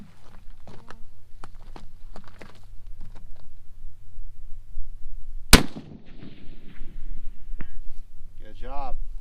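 A single sharp, loud .308 rifle shot from a TC Compass at a long-range outdoor target, cutting through quiet background movement and chatter, followed by a brief rumbling echo and faint talk afterward.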